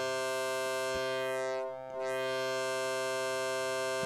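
A sine wave is distorted through a Venom wave folder synthesizer module with per-stage amplification, giving a steady, bright, buzzing tone whose upper overtones sweep slowly down and back up, with a few faint clicks and no talking.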